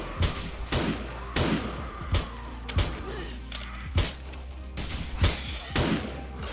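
Repeated gunshots in 7 Days to Die, fired at zombies from a prison base wall, roughly a dozen punchy reports spaced about half a second apart, moderately close.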